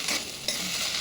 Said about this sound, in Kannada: ಈಗ ಕುಂಬಳಕಾಯಿ ಎಲೆನ ಅದಕ್ಕೆ ಮಿಕ್ಸ್ ಮಾಡಿಬಿಟ್ಟು ಚೆನ್ನಾಗಿ